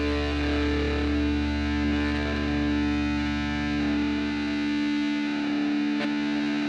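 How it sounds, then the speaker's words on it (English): Heavily distorted, effects-laden ending of a song, a dense, saturated wash of sound that stays loud and even throughout with a brief sharp accent near the end. "Nice little bit of distortion at the end there as well."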